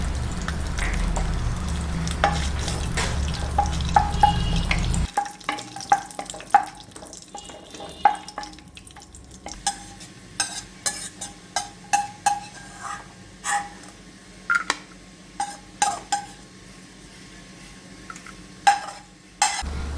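Almonds and cashews frying in ghee for a dates and flattened-rice snack: a dense sizzle for about five seconds, then quieter crackle broken by repeated clinks and scrapes of a spoon in the pan.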